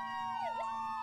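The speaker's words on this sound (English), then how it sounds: "we turned on full sirens" A loud electronic ladder truck siren in a Roblox game, sweeping down and back up in pitch, steady and close, with no talking.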